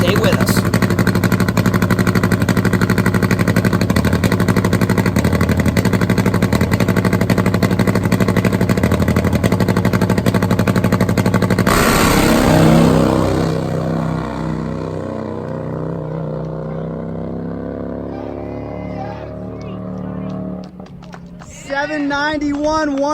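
A drag racing motorcycle making a full pass down the strip: a loud, continuous high-revving roar for about twelve seconds, then fading as it recedes into the distance, with an announcer talking throughout.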